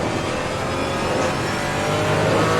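Lexus GT race car in Assetto Corsa Competizione heard from the onboard camera: a steady, loud engine drone holding one pitch, with no talk over it.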